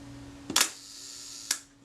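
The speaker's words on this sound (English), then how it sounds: "if I press the shutter release very gently" A Reflex III camera's shutter release fires with a sharp mechanical snap, followed about a second later by a second, briefer click, close and quiet against a faint steady hum.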